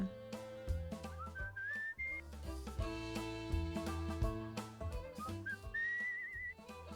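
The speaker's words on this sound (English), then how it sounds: "I keep on whistling, but I don't know if that's what I'm supposed to do" A character whistles a wandering tune in the video game Where The Water Tastes Like Wine, clear melodic phrases gliding over a backing of plucked string and piano-like music.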